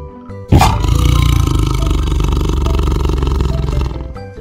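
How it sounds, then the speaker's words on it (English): A tiger gives a single loud, close roar that bursts out abruptly and holds as a sustained, throaty growling rumble for several seconds before fading. "Tiger."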